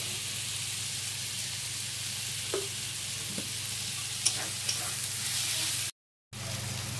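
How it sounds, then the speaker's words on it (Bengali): Chopped tomatoes with a little salt sizzle steadily in a pan for a goat meat curry, a constant close frying hiss with a few soft stirring clicks. "টমেটো কুচিটা দিয়েও এবার ভালো করে ভেজে নেবো।"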